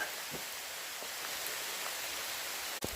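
Hail falls during a mountain hailstorm as a dense, steady hiss of pattering impacts with a few sharper individual hits, constant and close throughout.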